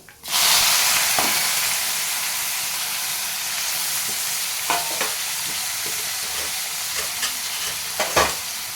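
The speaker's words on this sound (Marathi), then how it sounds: "आलू लसूण पेस्ट हे सर्व थोडं शिजून घेते" Chilli, tomato, onion and garlic paste sautéing in a pan, a loud dense hiss that starts abruptly and carries on steadily, with a few scattered stirring clicks and scrapes near the end.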